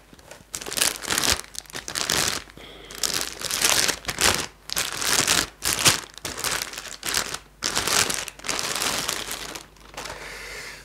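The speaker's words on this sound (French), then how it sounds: "on va déballer donc le deuxième buste" Plastic and cardboard packaging of a Dragon Ball Z collectible bust being unwrapped, with loud bursts of crinkling, crushing and tearing repeating in uneven waves and brief pauses, close up and with no talking.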